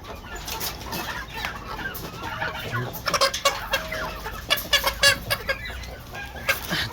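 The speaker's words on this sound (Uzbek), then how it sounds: "Bu yerda o'zimiz ochirgan jo'jalar." Several home-hatched three-month-old chicks cluck and chatter nearby in a busy, overlapping flurry of short calls, with a low background hum throughout.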